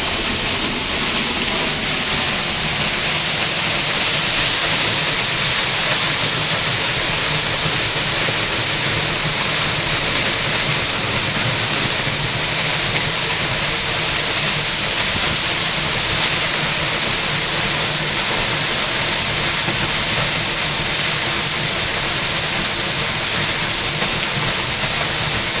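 Eas Mor waterfall at High Kildonan in spate after heavy rain, a loud, constant roaring rush of falling water that fills the whole stretch without a break.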